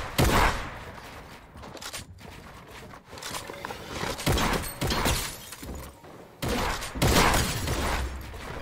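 Gunfire in Fortnite during a trick shot: a series of sharp, loud bursts and cracks separated by brief quieter gaps, with mechanical clatter and impacts and no talk.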